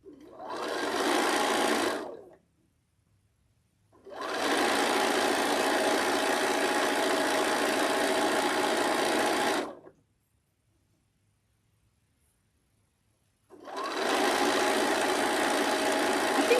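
An electric sewing machine stitches in three bursts, a short one, a long steady run and another starting near the end, with silent pauses between them and no talking.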